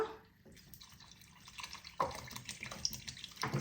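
Water pours into a big cooking pot, up to about six liters, for hibiscus flower tea. It comes as uneven splashing bursts with drips between them, moderately close and without talk.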